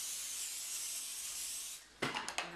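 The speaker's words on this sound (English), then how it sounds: "to this I'm just going to add some cooking spray" Cooking spray is sprayed into a springform pan as a steady, soft hiss for almost two seconds, then it stops and a few light clicks and clatters follow, close and quiet.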